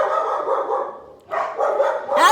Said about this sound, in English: Not the time for my dogs to be barking.